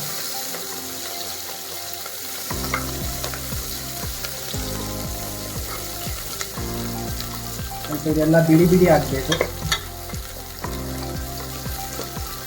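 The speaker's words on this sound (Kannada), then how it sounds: "ಆನಿಯನ್ ಮತ್ತೆ ಚಿಲ್ಲಿ ಹಾಕುವ ಸ್ವಲ್ಪ ಫ್ರೈ ಮಾಡ್ಕೊಳ್ಳುವ ಸ್ವಲ್ಪ ಬಿಡಿ ಬಿಡಿ ಆಗುವವರೆಗೂ ಫ್ರೈ ಮಾಡ್ಕೊಳ್ಳುವ" Onion and chilli fry in a pan for North Karnataka village-style mutton curry, giving a steady close sizzle broken by repeated stirring scrapes, louder in the middle, while a voice talks over it.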